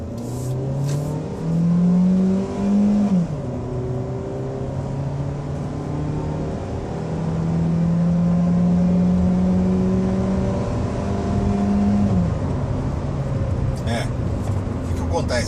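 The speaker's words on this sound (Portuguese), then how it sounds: "vamos dar uma acelerada aí" A Hyundai HB20 automatic car engine drones steadily and climbs in pitch as it accelerates, easing off and revving up again, with a faint voice underneath.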